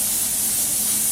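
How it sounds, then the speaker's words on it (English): A continuous close hiss of cooking spray jets into an Instant Pot in one steady burst, bright and loud, filling the whole moment. "So we're going to start off by spraying our Instant Pot."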